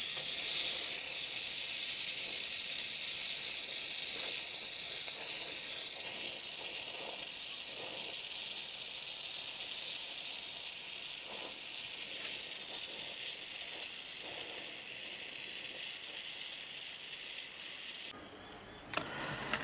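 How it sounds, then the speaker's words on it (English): Oxy-MAP gas torch flame used for tack welding and running a fillet weld on metal, a loud steady roaring hiss that holds for about eighteen seconds, then cuts off abruptly. "I'm just going to tack this and then run a fillet around it and turn it over and run a bit round the bottom"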